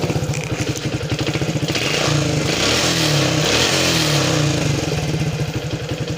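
A Yamaha Jupiter MX motorcycle, serviced after white smoke and hard starting, fires on one press and settles into a steady, close, loud idle with a rapid even pulse, alone without talk.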